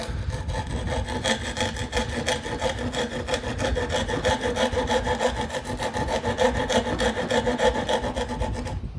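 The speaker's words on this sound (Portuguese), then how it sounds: "Agora com o lado reto da grosa, como você já sabe, nós vamos acertar." Wood rasp filed back and forth across a wooden joint piece clamped in a vise, a loud, rough scraping in a fast steady rhythm of strokes that continues throughout.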